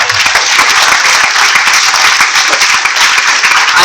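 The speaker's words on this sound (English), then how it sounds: "I'm sure you know that you're going to clap again" Audience applause fills an aviation careers conference hall, a dense, steady wash of many hands clapping close and loud throughout, with no pauses.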